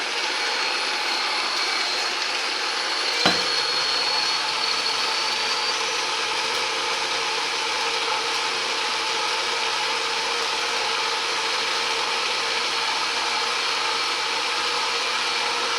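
Silvercrest To Go SSMA 67 B2 smoothie maker blending, a steady, loud motor whir that holds evenly throughout with one brief knock near the start; no voices.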